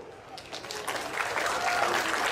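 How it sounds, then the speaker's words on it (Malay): Crowd applause at a Parti Amanah political rally in Penang, a broad wash of clapping that swells and grows denser, with some voices and cheers mixed in. "Satu tepukan gemuruh untuk beliau"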